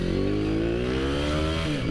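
A 300cc Honda CB Tiger with an MX block revs in first gear, its loud engine note climbing steadily in pitch as it pulls, close and alone without talk.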